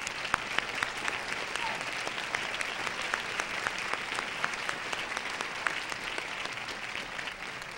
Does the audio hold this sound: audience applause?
yes